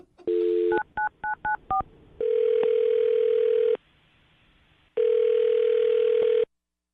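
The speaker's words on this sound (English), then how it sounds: "I'm going to dial her phone number right now" Touch-tone telephone dialing: a short dial tone, then a quick run of several distinct keypad beeps, followed by two long, steady ringback tones separated by a pause, loud and clear with no talking.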